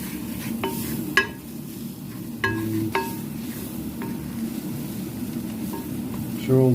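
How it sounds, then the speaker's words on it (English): Onions, garlic, ginger and chilli are stirred in a pan over high heat for a spicy chicken xacuti curry, giving a steady close sizzle with a few sharp utensil clinks against the pan. "So we're just going to stir this round on a hot heat for about 30 seconds."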